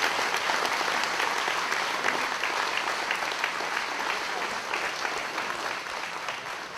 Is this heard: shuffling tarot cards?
no